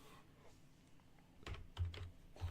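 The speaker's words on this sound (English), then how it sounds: "Rolling the dice now." Percentile dice rolled for a Dungeons & Dragons 5E session, heard as a few sharp clattering bursts of hard plastic tumbling on a tabletop, close and fairly quiet, with a pause between rolls.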